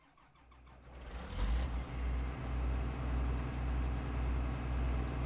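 A tractor engine in Farming Simulator 22 cranks and catches, then settles into a steady, loud, rumbling idle with a pulsing low throb, with no talk over it.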